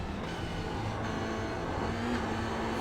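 A Toyota GR86 engine drones steadily under acceleration in iRacing at Zandvoort, a close, constant in-car hum with no talk.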